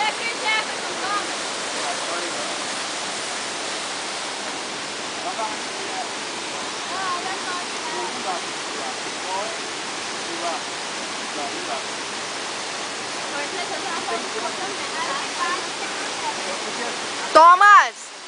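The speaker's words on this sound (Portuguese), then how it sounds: "Cachoeira do Tombador." The Cachoeira do Tombador waterfall in Brazil pours with a steady, dense rushing roar close by, unbroken for the whole stretch, with faint voices beneath the water and a brief louder sound near the end.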